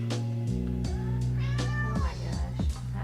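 A cat being bathed meows repeatedly, several drawn-out, complaining cries close to the microphone in quick succession over a steady background hum.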